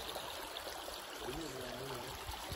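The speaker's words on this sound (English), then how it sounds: "Is that the waterfall there? Oh, yep. There's the waterfall." A stream near a waterfall rushes with a steady, moderately faint broadband wash of flowing water, and a brief low voice murmurs partway through.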